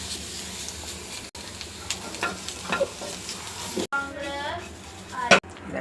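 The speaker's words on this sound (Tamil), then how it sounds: "சரியாக தேங்காய் போட்டுக்கோங்க. தேங்காய் வதக்கிக்கோங்க." Grated coconut sautés in a pan with garlic and dried chillies, giving a steady sizzle with scraping stirs, while a person speaks over the cooking.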